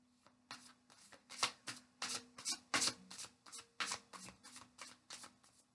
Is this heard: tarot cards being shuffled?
yes